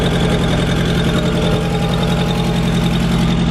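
A turbocharged 1.8-litre engine in an MK1 Golf with a big exhaust leak runs at idle, a loud, close, steady chuffing putter with a rapid ticking rhythm throughout.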